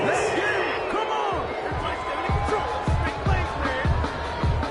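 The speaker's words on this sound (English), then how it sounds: "This home crowd, they're happy with that call." A stadium crowd in an NFL simulation video game, Chicago Bears at Detroit Lions, roars and cheers after a fourth-down penalty call, with repeated thumps and bursts under a steady crowd din.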